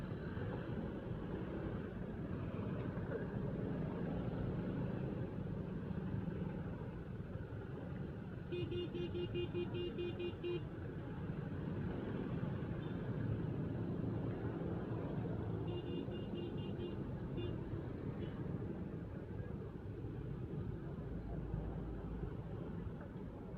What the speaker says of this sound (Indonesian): Macet bos di sini bos.